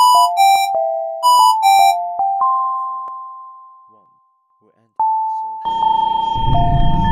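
Ascending electronic chime tones ring out on a metro train platform, a sequence of clear bell-like notes fading into a pause before a sustained tone and a rising rumble of a departing train.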